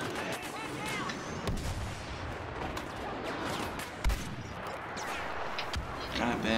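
Rapid cycler rifle shots ring out in a Star Wars Battlefront match, sharp cracks repeating irregularly over dense battle noise and distant explosions.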